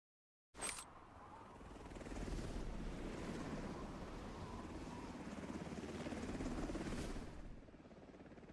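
A helicopter in a video game sets down for landing, its loud, steady rotor roar rising quickly and holding for several seconds before easing off, with no talk over it.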